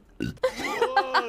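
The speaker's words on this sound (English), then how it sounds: "I can like inhale burp." A young woman makes an inhaled burp, a short croak followed by strained, gulping vocal sounds that rise and wobble, close-up and moderately quiet with a light laugh-like edge.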